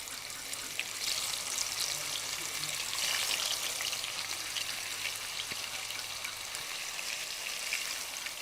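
Pieces of tilapia, rubbed with turmeric, chili powder and salt, fry in hot oil with a continuous crackling hiss, steady and moderately close, with no talking.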